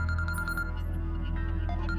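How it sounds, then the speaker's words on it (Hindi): A phone rings indoors in a drama scene, with a rapid repeating electronic trill over a steady background hum, fairly quiet and with no speech. "फोन आ गया"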